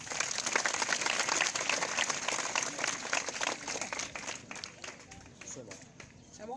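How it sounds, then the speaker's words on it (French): A crowd at a school project launch event applauds with dense, steady clapping that gradually thins and fades toward the end. "Sous vos applaudissements."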